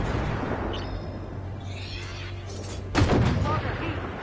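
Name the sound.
tank cannon shot from video game Armored Warfare, AMX-10RCR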